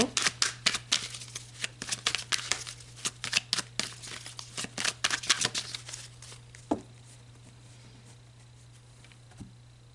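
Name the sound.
tarot cards being shuffled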